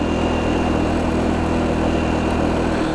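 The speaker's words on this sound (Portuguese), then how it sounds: "Ela vai fazer um certo barulho na primeira marcha, mas é normal, porque a rotação do motor tá subindo" Honda Biz small motorcycle engine held in first gear on a hill, a steady close drone with a constant hum and no clear revving swell, running alone without talk.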